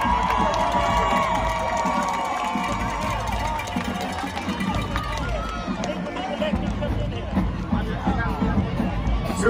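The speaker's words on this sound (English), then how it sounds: "Stand to your feet, family, and give John Reeves a great big round of applause." A stadium crowd at the Bethune-Cookman 2019 homecoming game applauds and cheers. A broad wash of clapping, shouts and crowd babble carries on continuously, with voices mixed in.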